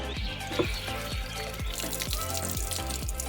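Tap water runs steadily as flowers are washed under it, a close, continuous splashing with faint rhythmic knocks and birds calling in the background.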